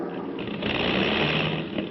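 An aircraft engine failing during an attack scene from War of the Worlds, giving a steady, buzzing, high-pitched drone that swells slightly partway through.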